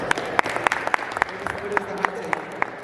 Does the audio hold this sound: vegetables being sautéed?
no